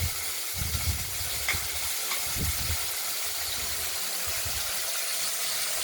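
Small fish frying in mustard oil in a kadai, a steady broad sizzling hiss that stays loud and continuous with low bubbling underneath and no voices.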